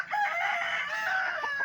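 A native rooster in a backyard crows loudly and close by, one sustained, strained call that fills the short moment.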